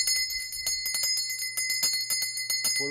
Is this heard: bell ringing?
yes